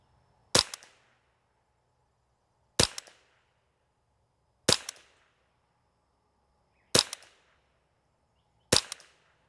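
Five sharp rifle reports from a Ruger 10/22 semi-auto .22 at a 50-yard outdoor range, evenly spaced about two seconds apart, each a loud crack with a brief decaying tail, nothing else heard between.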